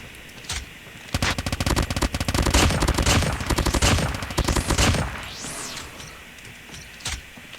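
Rapid bursts of submachine-gun fire from the Cordite and BK57 in a shooter game, loud and close, with several sustained volleys and short gaps between them.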